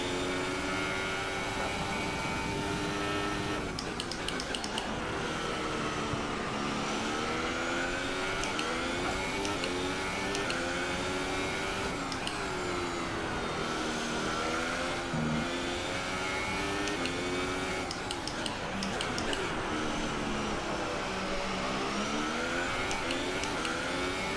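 Renault Formula 1 car engines on the Bahrain Grand Prix circuit in F1 2018: a sustained high-pitched engine whine that rises and falls with gear shifts, loud and steady throughout with no voices.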